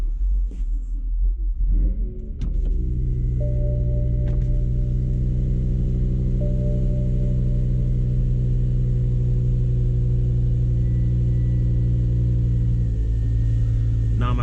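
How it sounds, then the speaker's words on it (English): A tuned BMW E60 M5 with a custom exhaust fires up from cold: a brief starter crank, then a loud, steady high idle with a deep rumbling drone that settles slightly lower near the end, close to the car and with no talking. "here we go. Cold start."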